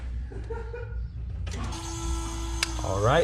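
White Rodgers (Stancor) glow plug relay in an OBS-era truck clicking on when the switch is turned to auxiliary, a single sharp click amid humming electrical and engine-bay noise, with someone speaking briefly beforehand.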